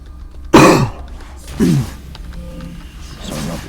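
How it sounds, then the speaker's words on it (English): A lingering cough after COVID: a loud, close, harsh cough, then a second throat-clearing cough a second later, and a fainter rasping clear near the end. "Sorry about the cough. I actually had COVID a couple weeks back. Now I've just got a few lingering coughs."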